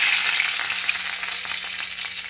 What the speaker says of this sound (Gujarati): અંદર નાખીશું કઢી પત્તા.